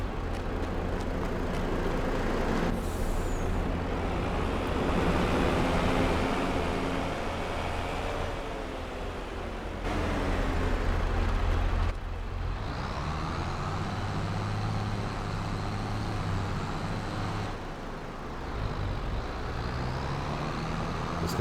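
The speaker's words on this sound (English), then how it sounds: "Let me go ahead and move the truck and trailer." A truck pulling a trailer in Farming Simulator 22 drones steadily with a low engine rumble and shifting tones for the whole stretch, close and continuous, with no talking.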